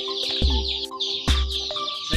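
Country chickens cluck close by in a village in short, repeated calls, with a couple of soft thumps in between.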